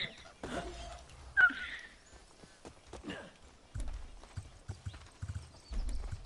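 Horse hooves clip-clop in a video game, a few irregular hoof thuds and clatters with brief whinny-like bursts, fairly close, amid quiet gaps and low rumbles.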